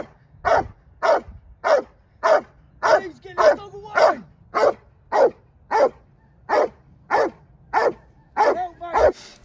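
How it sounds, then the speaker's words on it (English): A police dog holds a suspect hidden under a car at bay, barking steadily instead of biting: about sixteen loud, close, evenly spaced barks roughly every half second, with no talk over them. "was to hold and bark and contain the criminal in that position"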